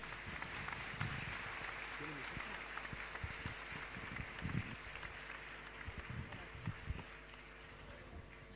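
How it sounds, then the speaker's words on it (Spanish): An audience at a talk on climate change and veganism claps in steady, dense applause that carries through the whole stretch, with a few louder claps standing out against the crowd's patter. "Los recibimos con un fuertísimo aplauso"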